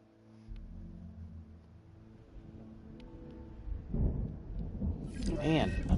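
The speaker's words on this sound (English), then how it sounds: "Man, another storm already?" A thunderstorm in the park-building game Jurassic World Evolution, deep thunder building and swelling over several seconds with rain beneath, ending in a louder crack of game effects.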